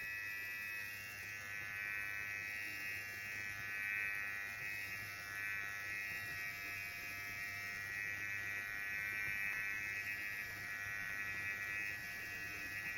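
Electric microneedling pen set to 1 millimeter, glided back and forth over a cheek, giving a steady, faint high-pitched buzz with a low hum beneath that holds level throughout, close by and without voices.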